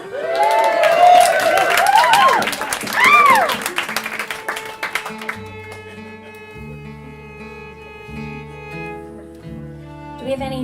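An audience at a live concert in The Owl Parlor, Brooklyn, NY, claps and cheers with whoops through the first half, then it fades as sustained instrument notes take over.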